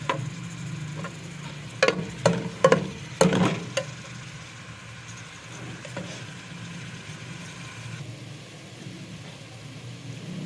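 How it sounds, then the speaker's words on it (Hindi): Chopped onions frying in oil in a pan, a faint steady sizzle close by, broken early on by a few sharp clinks and scrapes of a spoon stirring. "हमारे प्याज फ्राई हो रहे हैं।"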